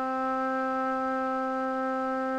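A resynthesized C4 note played back in Spear software: a steady, pure electronic tone with stacked even harmonics, sustained without change, fairly quiet and alone.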